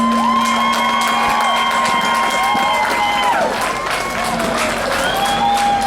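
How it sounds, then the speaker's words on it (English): Loud crowd applause with cheering and whoops at an anniversary community festival celebration honoring a retiree, mixed with tonal background music or feedback lines and a busy outdoor crowd. "if we can all give him a big round of applause"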